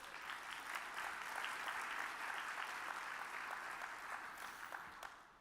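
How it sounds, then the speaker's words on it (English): A large crowd at an annual meeting's opening plenary session applauds, full and sustained clapping that stays steady and then tapers off at the end. "Please give them all a round of applause"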